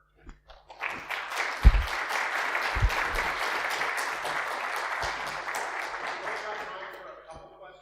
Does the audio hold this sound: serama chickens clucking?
no